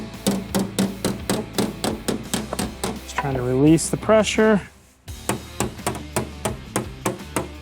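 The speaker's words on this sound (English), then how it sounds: "I'm gonna get up and with the hammer" Steady series of sharp hammer blows knocking dents out of the steel body of an off-road vehicle during bodywork, struck in an even rhythm, close and loud, with a brief stretch of talking in the middle.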